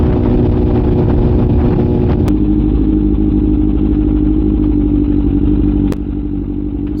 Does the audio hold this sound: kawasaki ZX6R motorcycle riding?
yes